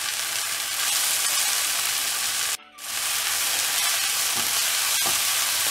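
Chopped fenugreek leaves and coriander fry in hot oil with a steady, loud, dense sizzle that briefly drops out midway before returning, with a few faint stirring taps near the end.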